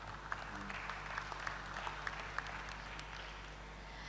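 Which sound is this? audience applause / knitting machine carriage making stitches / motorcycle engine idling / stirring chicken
audience applause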